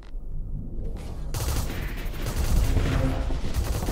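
Missiles strike a ship during a space battle in the game Starsector, a dense barrage of crackling impacts and booms that swells louder partway through, with no voices.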